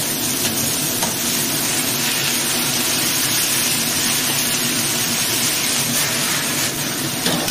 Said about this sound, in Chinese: 爆炒几下